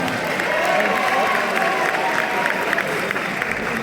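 Audience applause and cheering at a film screening in Belgium, a steady wash of many hands clapping with some crowd voices, continuous and fairly loud throughout.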